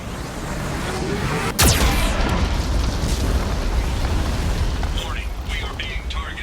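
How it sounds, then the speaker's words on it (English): A Geth cannon in the Mass Effect 2 video game, one sharp loud blast followed by a long rolling rumble of explosions, with a voice talking over it. "Warning, the VI infection has assumed control of the Geth cannon."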